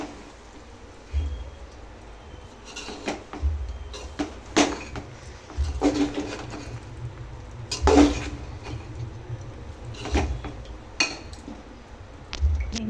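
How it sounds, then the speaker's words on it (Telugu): A spoon stirs a mixture of ingredients in a pot while upma is being prepared in a home kitchen, giving irregular scraping clinks and soft knocks against the metal at a moderate, close level. "ఇందులో మొత్తం కిందికి పైకి మొత్తం బాగా కలుపుకోవాలండి."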